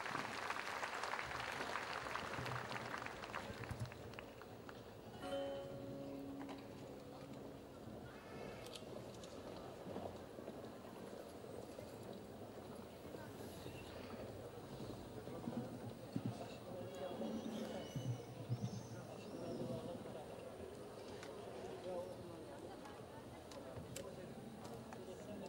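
A concert audience in Baku claps for a university Turkish folk music choir, giving dense, sustained applause that fills the hall at a steady level, with an announcer's voice heard near the start.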